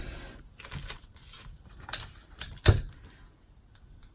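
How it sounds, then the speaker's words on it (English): Tape pulled and pressed down to hold fabric on an embroidery hoop while making a top-zip splash bag, giving several brief scratchy crackles and taps with one sharper burst near the middle, close and fairly quiet, with no talk. "I'm going to go ahead and tape it"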